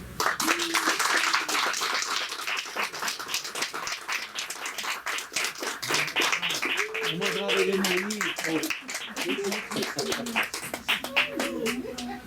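An audience at a book talk breaks into sustained, dense applause to welcome the authors, steady rapid clapping from a crowd for several seconds, with voices talking and cheering over it.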